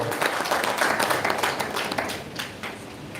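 An audience applauds at a book launch ceremony for a Magahi work: dense, steady clapping from many hands, fairly close and loud, gradually thinning toward the end.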